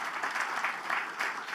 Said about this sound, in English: I would like to see a big round of applause again to Panama, Madagascar, and Côte d'Ivoire for their leadership.